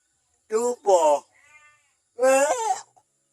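Close sheep bleat three times: two quick wavering calls, a short quiet gap, then a longer, louder bleat.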